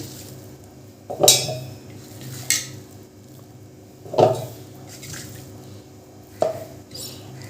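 Squeezed, drained soybean chunks going into a mixer jar, heard as four separate clinks and knocks against the jar spaced a second or two apart, with quiet pauses between them.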